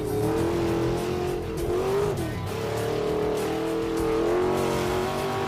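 A car engine held flat out in first gear, revving in a loud, continuous high-pitched strain with slight wavering in pitch and no letup, close by and with no talking.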